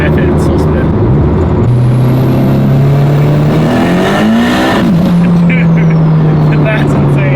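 Engine of a 600 whp Honda Civic with VTEC revving on a dyno: a loud, steady, high-pitched drone that climbs, dips briefly, then holds, with voices faintly underneath.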